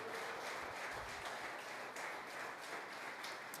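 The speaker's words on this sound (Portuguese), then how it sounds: "aplauda Ele aí no seu lugar" A church congregation applauds steadily throughout, a dense, even wash of clapping with no clear gaps or single standout claps, moderately distant and filling the room.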